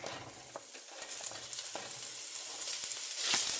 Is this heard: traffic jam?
no